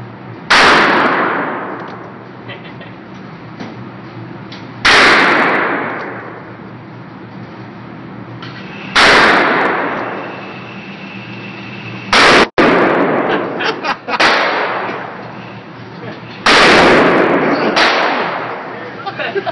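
Five heavy revolver shots at an outdoor shooting range, three from a .454 and two from a .460 S&W, each a loud sharp blast with ringing decay, spaced a few seconds apart, with faint talk between them.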